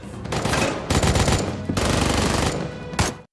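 Loud bursts of rapid gunfire in several long volleys with brief gaps between them, close and harsh, in a film shootout between police and robbers.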